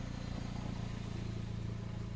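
A 2003 Geo Tracker engine idles with a small exhaust leak, a faint, steady low rumble with even mechanical pulsing and light clatter, no voices.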